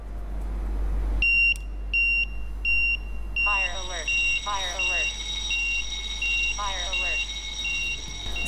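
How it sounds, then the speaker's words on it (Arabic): A high-temperature heat sensor alarm sounds close by. It gives a few sharp, evenly spaced electronic beeps, then a steadier repeating pattern of bright beeps mixed with warbling chirps. "يصدر اللي هو جهاز إنذار يعلم الأشخاص الموجودين في المحيط بأن درجة الحرارة"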